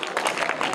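Brief burst of audience applause for a student's correct quiz answer, dense clapping filling the short moment without talk.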